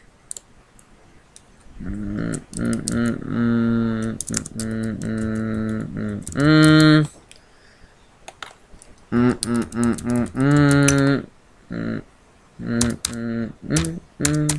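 Fingers type a login on a computer keyboard in short bursts of clicking keystrokes separated by pauses, with sustained tonal sounds playing alongside.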